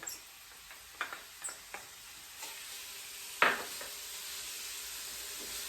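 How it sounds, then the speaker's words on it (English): Chopped onion and red pepper sauté quietly in a pan, with a soft, faint sizzle broken by a few light taps and scrapes of a stirring utensil. "We're sauteing it."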